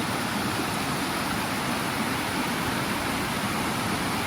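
A waterfall rushes in a loud, continuous, unbroken hiss from close by, with no voices over it.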